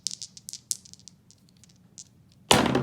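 Dice for a board game rattle and click in a fast scatter of light taps for about two seconds, ending with a sudden loud burst of clatter.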